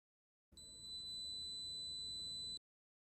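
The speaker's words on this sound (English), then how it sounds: "A blue light with a long beep indicates a successful registration." A Pro-4 Secure Touch 3.75-inch fingerprint lock gives one long, steady electronic beep, about two seconds of a bright high tone, loud and close with no other sounds, confirming a successful admin fingerprint registration.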